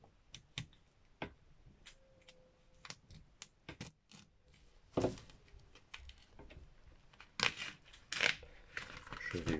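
Opening the packaging of a black vinyl record: quiet, irregular crinkles, taps and scrapes of plastic and cardboard being handled up close, with a few louder rustles toward the end.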